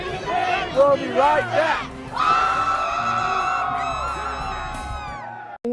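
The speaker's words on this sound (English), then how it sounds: "This is the Rockville Cheer Block." The Rockville Cheer Block student section chants and yells loudly at a high school basketball game, rhythmic crowd cries giving way to a sustained roar, with a brief announcer line over the noise.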